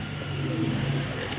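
Male and female pigeons coo in a loft, a low, rounded burbling that swells for about half a second, with soft rustling and a faint voice underneath.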